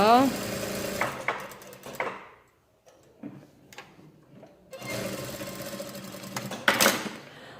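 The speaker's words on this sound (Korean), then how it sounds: "1cm 두시고 심 있는 쪽에 해서 봉제 들어가겠습니다. 되돌아박기 하셔야 되고요." A sewing machine stitches a flap for a suit jacket pocket with a backstitch, running in two close, steady bursts separated by a pause of handling noises. Someone talks over parts of it.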